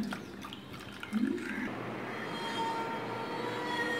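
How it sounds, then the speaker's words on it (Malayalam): Water poured into a decorative pot, a soft gurgling stream that starts about a second in, rising in pitch as the vessel fills, fairly quiet and close. "ഇനി അതിലേക്ക് വെള്ളം ഒഴിക്കുക."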